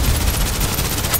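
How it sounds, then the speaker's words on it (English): Rapid suppressive gunfire rattles loud and close in the shooter game Snowbreak: Containment Zone, a continuous burst of automatic shots with no voices over it. "They've got firepower. Suppressive fire."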